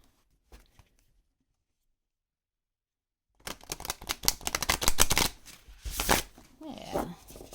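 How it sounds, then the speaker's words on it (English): A deck of oracle cards being shuffled by hand, a dense burst of crisp riffling and flapping that starts after a few near-silent seconds and carries on close and fairly loud. "those are shuffling fine"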